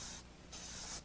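An aerosol spray hisses at a plastic scale model in two short bursts separated by a brief pause, sounding close and fairly quiet.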